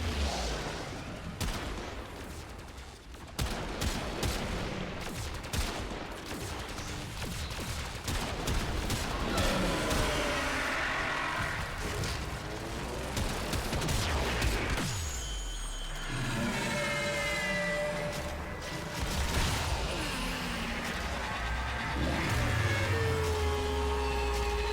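Sniper rifle fire against an Eidolon boss in the video game Warframe, heard as repeated sharp shots and crackling bursts layered over a dense, continuous battle soundscape with rumbling effects throughout.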